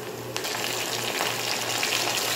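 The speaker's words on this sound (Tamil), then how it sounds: "இப்போது கத்திரிக்காயும் நல்லா வதங்குற அளவுக்கு வதக்குங்க எண்ணெயில்." Eggplant pieces and onion sautéing in oil in a pan, a steady close sizzle and frying crackle throughout with a faint low hum underneath, no voices.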